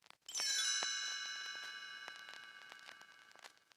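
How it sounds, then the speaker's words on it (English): A bright chime rings out once and sustains, its shimmering tones slowly fading over a few seconds with faint ticking clicks underneath. "You will know it is time to turn the page when you hear the chimes ring like this."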